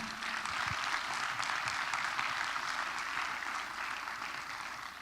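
Congregation in a theater worship service applauding the Lord, a continuous, fairly faint and distant wash of many hands clapping, steady for about five seconds with no clear talk over it.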